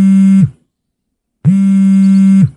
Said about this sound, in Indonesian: Bentar, ada telepon.